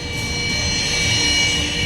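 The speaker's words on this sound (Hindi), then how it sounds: "सवाल है कि पासीघाट में सुखोई 30 MKI विमान को क्यों उतारा गया?" A Sukhoi Su-30MKI fighter jet lands at Pasighat airfield near the China border, a loud, close, continuous jet engine roar with a high whine holding steady throughout, no voices.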